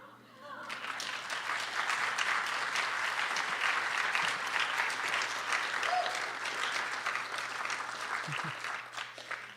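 An audience at a student poetry recitation event breaks into applause, a dense, sustained clapping that swells quickly and holds steady for several seconds, with a few faint voices mixed in.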